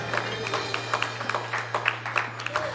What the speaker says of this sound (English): clap your hands and give God glory